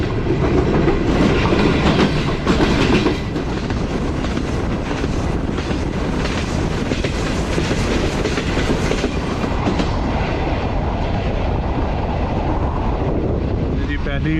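A passenger train runs through the Sohawa railway station area toward tunnels, heard from the guard compartment: loud continuous rumble with rhythmic clickety-clack of wheels on rail joints, steady and close throughout.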